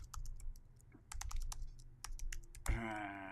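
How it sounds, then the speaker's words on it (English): Rapid bursts of close computer keyboard typing as a web address is entered, quick clustered key clicks with brief pauses, ending in a louder thump followed by a sustained tone. "I'll type that in."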